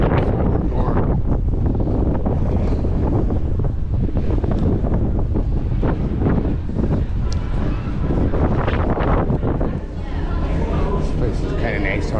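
Steady wind buffets the open deck of a ferry crossing to Swartz Bay on Vancouver Island, a constant loud rush over the low drone of the ship, with a person talking throughout.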